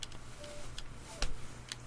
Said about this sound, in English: I'm pressing the buttons.